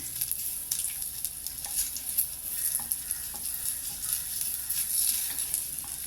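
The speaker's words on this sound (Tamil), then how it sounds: "ரெண்டையும் போட்டு ஸ்லைட்டாக வறுத்துக்கலாம்" Dates and figs lightly dry-roasting in a pan for Tirunelveli-style fruit halwa, giving a soft, steady sizzle with faint scraping stirs throughout, no voices.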